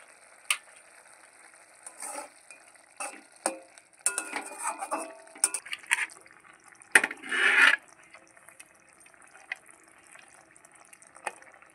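Fried paneer goes into a bubbling gravy in a pan and is stirred, with soft scraping, wet clatter and light sizzling, a louder splash of stirring midway, and sharp spoon clinks scattered throughout.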